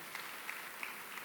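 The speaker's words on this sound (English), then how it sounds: "We can give him a warm clap as he's approaching the stage." Light applause from a summit audience in Kenya as a head of state approaches the stage, a soft, distant patter of clapping with a few brief louder claps standing out.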